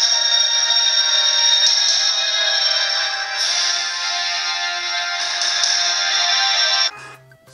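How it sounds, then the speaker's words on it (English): Royalty-free music plays from a phone through a mini toy megaphone, a bright, tinny, steady tone-heavy stream at high volume for about seven seconds before cutting off abruptly. "I'm going to try it with some royalty-free music"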